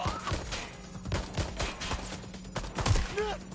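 Gunfire in Watch Dogs: Legion, with a steady barrage of sharp shots and impacts cracking through a dense, continuous wash of game noise.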